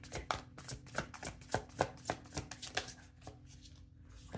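Tarot cards shuffled by hand in a steady run of soft riffling taps with a faint hum beneath, tapering off near the end.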